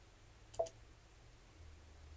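A single soft computer mouse click, brief and close, near the start of an otherwise quiet stretch with a low background hum.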